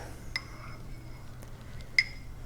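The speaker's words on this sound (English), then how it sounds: "I'm just going to stir this up" A spoon stirs oregano tea sweetened with honey in a cup, giving two or three light, ringing clinks against the rim spaced apart over a quiet background.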